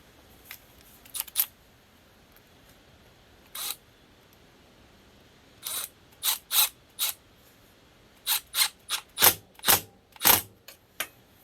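A clamp is screwed in on a 1987 KE100 motorcycle, heard as scattered bursts of sharp, close mechanical clicks that grow denser and louder toward the end, with no talking.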